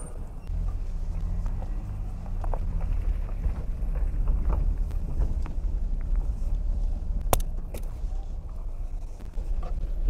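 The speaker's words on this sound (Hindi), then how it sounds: "इंजन के हिसाब से भी इसका साउंड चेक कर सकते हैं कितना स्मूथ है इसका" A 2013 Suzuki Mehran car engine while driving in Rawalpindi, a steady low rumble with road and cabin noise throughout and a few faint clicks, with no talk over it.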